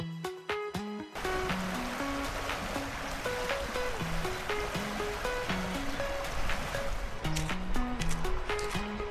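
River water rushes steadily at close range, a continuous broadband wash that starts after a short opening of musical tones, which continue over it throughout.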